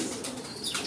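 Pigeon cooing softly at close range, a brief low murmur over faint background noise with a slight rise in hiss near the end.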